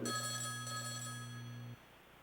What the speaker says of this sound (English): is there somebody clicking a phone?